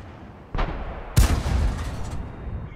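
Two heavy tank gun shots in a tank video game, a sharp blast at half a second followed by a louder, booming one with a rumbling tail, close and without talk.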